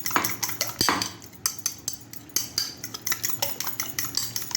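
Eggs with salt, red chilli and black pepper powder are whisked in a bowl for cheesy omelette rolls, giving quick rhythmic metallic taps of about four or five per second, close and unaccompanied by talk.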